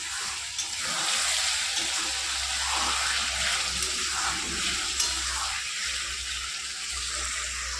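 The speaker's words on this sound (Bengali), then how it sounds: "এইদিকে রান্না হচ্ছে চিকেন।" Chicken cooking in a pan in a home kitchen, a continuous broad hiss of frying that stays steady throughout, with faint clatter now and then.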